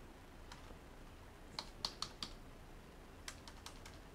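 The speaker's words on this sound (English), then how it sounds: "you're gonna type in texture" Soft clicking keystrokes on a computer keyboard in two short bursts of typing, quiet and close with no talk.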